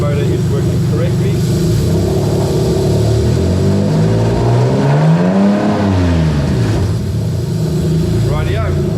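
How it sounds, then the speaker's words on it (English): A Toyota JZ VVT-i engine under Link ECU drive-by-wire control revs loudly and up close, rising and falling through a sweep of throttle blips before settling back toward idle; a voice is faintly heard under the engine noise. "we're just going to rev it up so we can make sure that the actual drive-by-wire motor is working correctly"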